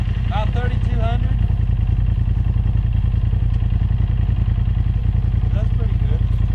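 A Polaris RZR on big tires with a P90 primary clutch revs to about 3,200 rpm, a loud, steady, close engine drone with a rough pulsing texture, and a voice briefly cuts in.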